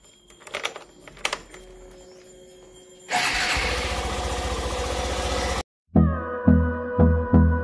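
A motorcycle engine starts up and runs with a steady, loud rumble for a few seconds, then cuts out. Sharp clicking taps come before it, and pulsing tonal hits follow.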